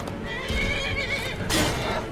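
A horse in Skyrim lets out a loud, close whinny while its hooves clop underneath, with a sharper burst near the end.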